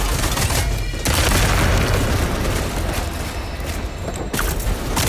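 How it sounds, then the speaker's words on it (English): Explosions in the video game Deadpool VR, loud continuous booming and rumbling blasts with a couple of brief dips, dense and close throughout. "Make more explosions? Not a problem, Carl"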